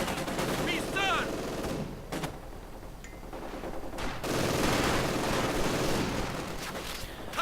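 MG42 machine gun fire in a World War II strategy game, with dense bursts of rapid automatic shots and booms in a busy battle mix, while a commentator talks over it.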